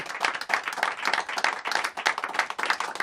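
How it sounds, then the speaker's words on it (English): An audience gives a short round of applause, with dense, steady clapping at moderate loudness. "Give John a big round of applause."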